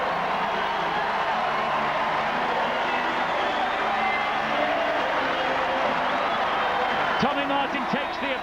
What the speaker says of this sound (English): Tommy Martin takes the applause of the crowd.